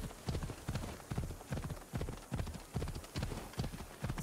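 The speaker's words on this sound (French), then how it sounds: "Voilà, il est énervé le cheval." Rhythmic clip-clop of horse hooves at a steady trot in the video game Assassin's Creed Odyssey, close and continuous, with no voices.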